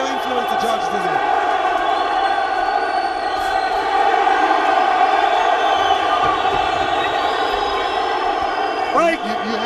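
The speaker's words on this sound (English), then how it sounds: "Every time Elvis lands even a jab, the crowd goes crazy." Crowd at a heavyweight boxing title bout in Harare, Zimbabwe, giving a loud, sustained roar of cheering throughout, with a commentator's voice running over it.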